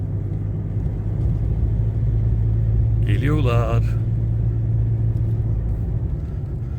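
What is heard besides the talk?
car engine running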